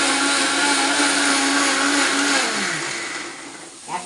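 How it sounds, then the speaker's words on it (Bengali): A mixer grinder blends spice paste as a loud, continuous motor whine that holds steady and then winds down toward the end, followed by a brief knock. "মশলাটাকে মিক্সি মেশিনে পেস্ট করে নিলাম।"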